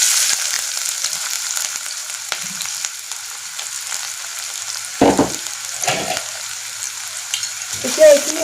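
Finely chopped onion frying in oil in a kadai, a steady soft sizzle throughout with a few louder scraping stirs near the middle and end.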